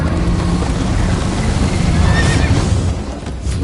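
A horse in Minecraft Story Mode gives a loud, close whinny with a wavering neigh over a dense rumbling game soundscape, with no speech.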